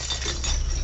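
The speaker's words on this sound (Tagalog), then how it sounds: "Matatabig ang baso. Babagsak ito at malalaglag." A drinking glass gets knocked over and falls as a radio drama sound effect, giving a short, close clinking rattle over a low background hum.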